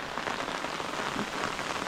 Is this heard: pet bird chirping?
no